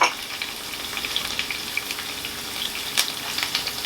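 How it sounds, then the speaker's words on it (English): Vegetables sizzle briskly in a hot pan for Jamaican ackee and saltfish, a loud continuous frying crackle with a few sharper pops and spatula taps and no one talking. "So you saute, all your veggies"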